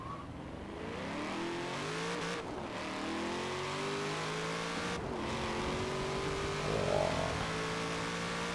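A Camaro ZL1 engine in the game Forza Horizon 4 revs and accelerates through several gear shifts, the pitch climbing repeatedly in a steady, loud roar with no talking.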